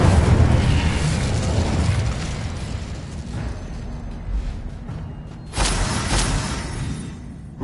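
Incendio fire spell cast in the video game Hogwarts Legacy, a roaring whoosh of flame that builds and fades, then a second loud burst flares up near the end.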